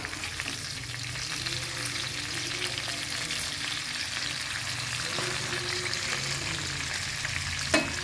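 Second batch of chicken frying in a pan, a continuous crackling sizzle with scattered pops and a sharp clink near the end, no voices.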